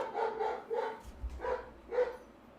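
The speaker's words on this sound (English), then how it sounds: "So Mr. Twitch, I know my dog is a barking." A dog barks indoors, four or five muffled barks in an uneven series, moderately close but fairly soft, with no talking.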